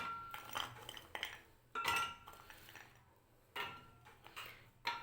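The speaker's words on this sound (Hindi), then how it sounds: "तो स्ट्रॉबेरी को मैं डालती हूँ जग में।" Strawberries drop into a jug for a milkshake with a handful of soft knocks and light clinks against its sides, spaced out and fairly quiet.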